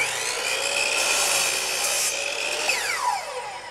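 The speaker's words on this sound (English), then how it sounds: "Great compound cuts every time. And I really like this work clamp, the new Delta 10-inch compound miter saw." A Delta 10-inch compound miter saw whines loudly as it cuts through wood trim, a continuous close blade roar with shifting tones that winds down at the end of the cut; no voices.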